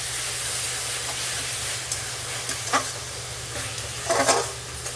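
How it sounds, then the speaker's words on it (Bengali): Ginger-garlic paste sautés with browned onions in a pan for chicken bhuna, giving a steady broadband sizzle with a few louder stirring scrapes and spatters toward the end, close and without talk. "আদা রসুনের একদম কাঁচা গন্ধটা যাওয়া পর্যন্ত ভালোভাবে ওটা কষিয়ে নিতে হবে মশলাটা"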